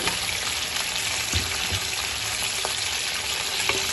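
Goat meat with a pinch of salt fries in a karahi, a dense, even sizzle close up with a few soft knocks of a ladle, no voice.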